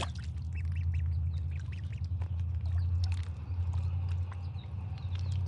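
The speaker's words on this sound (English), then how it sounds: "Right now they literally squeak like the little bath toys that you get." Ducklings squeak and chirp repeatedly in shrill little bursts over a steady low rumbling hum, the calls overlapping in a busy, continuous chorus.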